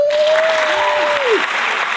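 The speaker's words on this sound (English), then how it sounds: "So let's give them a round of applause." A burst of applause from a crowd, steady and fairly loud, with a high whistle-like tone sliding through the first moments.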